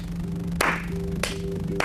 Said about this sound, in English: 3 or 4 people's hands clapping